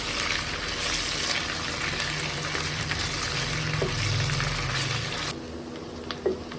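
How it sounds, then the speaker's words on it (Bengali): Onions sizzle in hot oil in a pan, a steady close hiss with bubbling that continues throughout before easing slightly toward the end. "পেঁয়াজগুলো যখন ভালোভাবে ভাজা হয়ে যাবে"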